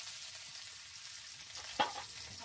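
Onions fry in a pan, giving a steady bright sizzle with one brief louder stir or clatter near the end, close and alone without talk.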